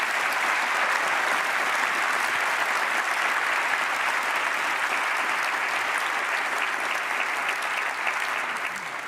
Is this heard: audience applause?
yes